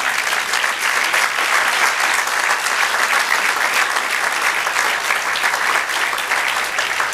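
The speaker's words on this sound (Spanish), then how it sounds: "Denle un aplauso al Señor" A church congregation claps steadily for the Lord during a Spanish-language sermon, a dense, even wash of applause lasting the whole stretch without a break.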